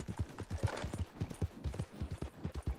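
Steady clip-clop of horse hooves in the video game Red Dead Online, in a quick, even rhythm, close and moderately loud, with no voices.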